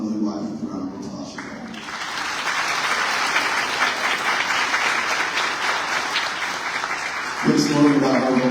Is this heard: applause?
yes